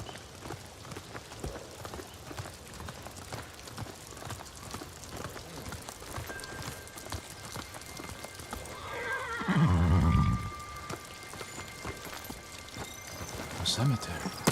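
A horse in the video game Ghost of Tsushima gives a loud, close whinny lasting about a second, partway through a steady backdrop of ambient game noise and light rain-like hiss, with a brief fainter snort near the end.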